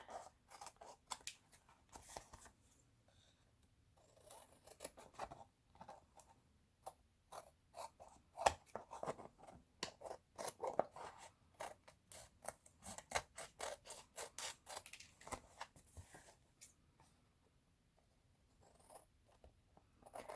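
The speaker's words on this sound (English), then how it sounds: "I am going to trim off this raggedy edge" Scissors snip and slice along the ragged edge of a botanical journal cover, a quiet, close series of irregular cuts and paper rustles with brief pauses between strokes.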